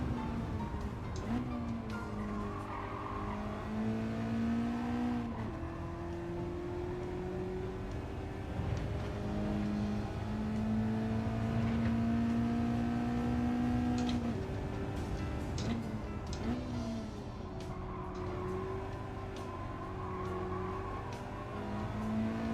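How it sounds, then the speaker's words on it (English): Toyota GR010 hybrid race car engine in Gran Turismo 7, a continuous loud drone with shifting pitch as it revs up and down through gears across a lap, steady and close with no talking. "This is not the easiest car to drive fast."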